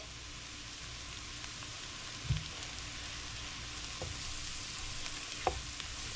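Flour cooks in a pan for a chicken or turkey stuffing casserole, giving a soft steady sizzle with a few faint scrapes of stirring and no talking.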